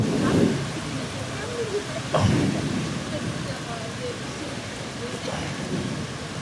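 Rain pouring down during a Royal Enfield motorcycle ride, a dense continuous roar of rainfall with a couple of brief louder surges, with someone speaking over it.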